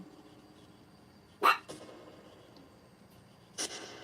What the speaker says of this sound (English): The dog's like, "Row."